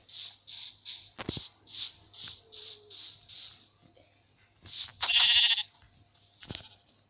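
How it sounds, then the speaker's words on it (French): A run of short, evenly spaced sheep bleats in Minecraft, about ten in a row, followed by a louder burst and a sharp click, clear and close with no talking. "Il y a 2 moutons."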